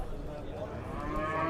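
A cow on a farm lows in a drawn-out moo against steady low background noise, with no talk over it.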